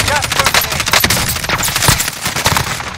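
Rapid automatic gunfire in the video game Warzone, loud dense bursts of shots one after another, up close, with players talking over it.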